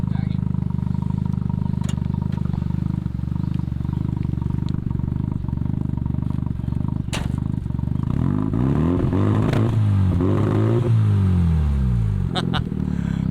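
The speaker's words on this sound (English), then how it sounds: "Do you mind to get a little rev for us?" A Mazda RX-7 engine idles with a low rumble, then revs up and falls back in rising and sliding roars, loud and close.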